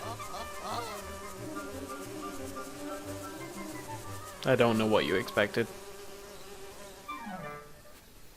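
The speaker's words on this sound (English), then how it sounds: "Bees!" Bees from a disturbed hive swarm with a rising insect buzz in The Legend of Zelda: Link's Awakening, mixed with bursts of game sound effects and a brief spoken line.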